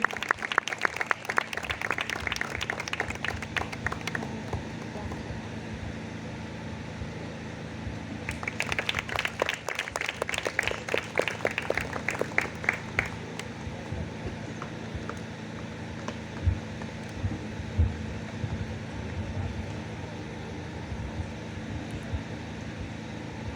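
Church congregation at a prayer meeting bursts into applause, a fairly distant crackle of clapping that fades, then swells again in a second burst before settling into quieter room ambience with faint fan hum.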